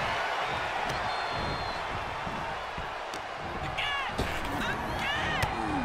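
Arena crowd noise from the WWE 2K24 wrestling game during a 20-person Royal Rumble: a constant roar of the audience with scattered impact thuds and a few sharp hits over it.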